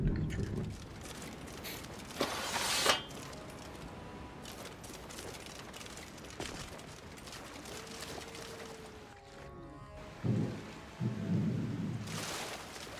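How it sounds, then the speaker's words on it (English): A summer thunderstorm in Florida sounds faintly in the background, with steady rain hiss and low rolling thunder rumbles behind muffled game and room sounds. "there's literally a thunderstorm"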